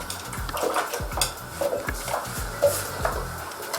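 Milk stirred in a metal pot during home yoghurt making, with repeated scraping clinks of a utensil against the pot and soft liquid swishes in an uneven, close rhythm.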